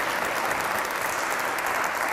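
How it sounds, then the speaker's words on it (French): A church congregation at a Sunday gathering applauds its choir, dense and steady clapping from many hands that fills the whole moment without a break. "je voudrais vous inviter à les applaudir"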